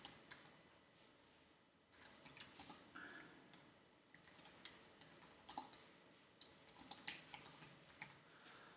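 Steady typing on a computer keyboard, quick bursts of key clicks with brief pauses, close and fairly quiet.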